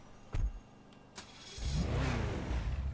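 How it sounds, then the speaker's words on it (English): An Ubermacht Rhinehart in GTA 5 starts up: a couple of short clicks and a brief crank, then the engine catches into a steady low rumble that holds close and fairly loud to the end. "let's do a quick sound check here on startup"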